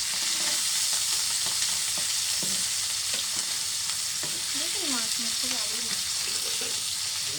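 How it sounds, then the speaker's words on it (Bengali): Rup chanda fish frying in a pan, a continuous close sizzle with light spatters and utensil clinks, a few faint voice-like tones partway through. "মাছটা ভাজি করতে একটু টাইম লাগবে।"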